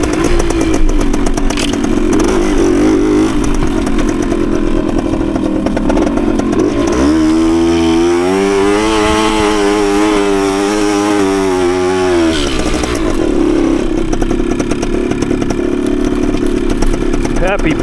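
A Suzuki TS185 motorcycle engine runs throughout, a rough two-stroke drone with a rising and falling revving tone in the middle, heard close up under and between bits of talk.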